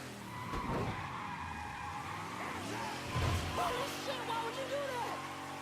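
A car in the game Mafia III drives with a droning engine while its tires squeal and skid in long wavering screeches, repeated across the stretch, with a voice talking faintly underneath.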